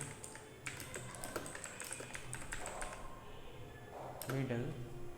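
Quick bursts of clicking keystrokes on a computer keyboard sound close and light beneath a man's steady spoken explanation, with brief pauses between runs of typing.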